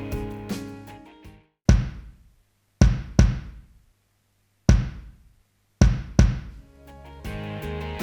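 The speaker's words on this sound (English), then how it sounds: "My second kick sounds like this." A layered second kick drum sample with a punchy, clicky attack, struck several times in an uneven pattern of single and double hits, separated by short silences and low ringing tones.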